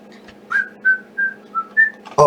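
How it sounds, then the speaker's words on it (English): A person whistles a short tune of five or six clear sustained notes, close to the listener, ending in a brief burst of noise. "Keep whistling."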